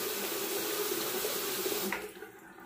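Tap water runs steadily into a bathroom sink to wet a Gillette Super Speed safety razor. The flow is even and close for about two seconds, then cuts off, leaving a faint trickle.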